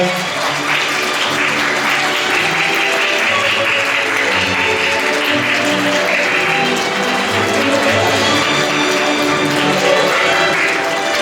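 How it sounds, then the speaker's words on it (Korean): Steady applause from wedding guests at a hotel wedding ceremony fills the whole stretch, dense and continuous clapping with a faint murmur beneath. "1차 신품의 박수 부탁드리겠습니다"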